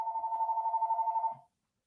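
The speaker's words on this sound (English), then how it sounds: "the phone won't stop ringing" A telephone rings indoors in one continuous trilling burst of about a second and a half, then stops; no one speaks over it.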